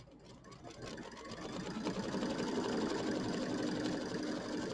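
An embroidery machine stitches appliqué tack-down lines for a mini quilt, a steady rapid mechanical whir with fast needle clatter that grows a little louder, heard close and alone.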